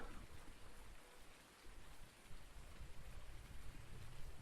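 Steady, dense rain patters on a farm, a continuous hiss with no voices, moderately faint throughout.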